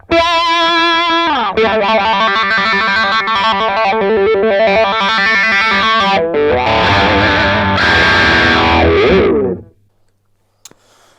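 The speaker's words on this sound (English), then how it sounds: "drive the amp a little bit harder and do some lead stuff rather than rhythm" Electric guitar lead lines played through a Cry Baby Mini wah pedal into a harder-driven overdriven amp, using humbucker and Stratocaster bridge pickups; loud, sustained distorted notes with sweeping wah tone for about nine seconds, then a sudden stop.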